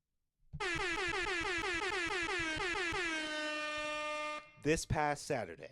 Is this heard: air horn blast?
yes